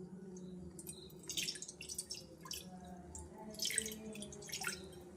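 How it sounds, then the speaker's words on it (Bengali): Water trickles and splashes into a cooking pot for making chushi pitha, a soft, uneven pour heard close but fairly quiet over a low background hum. "পিঠে বানানোর জন্য আমি এখানে জল দিয়ে দিব।"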